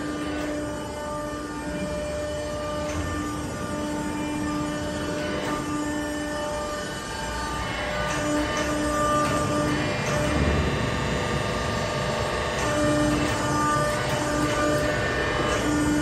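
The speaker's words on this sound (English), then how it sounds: "but it's a rotary vane steering gear. It's pretty loud down here" A rotary vane steering gear running in a ship's steering compartment, giving a loud, steady machinery drone with sustained tonal hums that swells slightly partway through.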